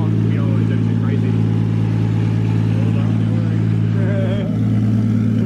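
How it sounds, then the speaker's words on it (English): A car skids on a driveway, its engine droning loud and steady with harmonic hum throughout, tyre noise scrubbing beneath, and voices talking over it. "Nice little test skid."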